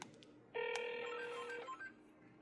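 A ringback tone on a PoC radio call, one clear electronic ring lasting about a second, faint and isolated against a quiet room background.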